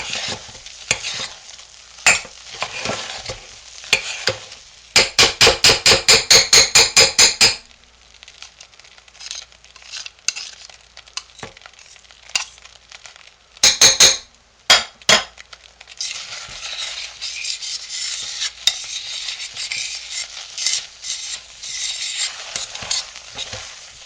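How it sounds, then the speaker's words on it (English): Hot process soap being stirred as it cooks, with repeated scraping and clinking of a utensil against the pot, including a fast rhythmic burst of strokes, then bursts of stirring among quieter stretches, close and fairly loud. "now our soap has cooked for 1 hour, and we're going to stir it"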